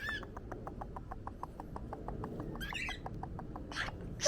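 A cockatiel, a small pet parrot, makes a fast series of repeated clicking chirps with a few harsher squawking calls, all faint and close within a quiet indoor room.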